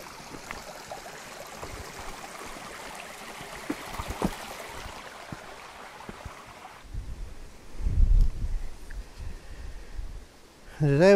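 A river flowing through a hidden valley in Ballaugh on the Isle of Man, passing under a big slate flag crossing. The steady, faint wash of water is broken by wind buffeting the microphone toward the end.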